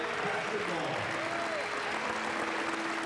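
A crowd gives a standing ovation as a 9-year-old cancer survivor signs with a college basketball team, with dense, steady applause filling the space while a voice speaks over it.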